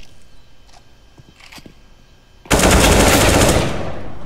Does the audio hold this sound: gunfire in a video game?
yes